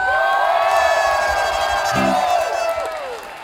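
Loud crowd cheering and whooping at a ska orchestra concert, a sustained roar of voices with shouts rising over music throughout, fading slightly toward the end.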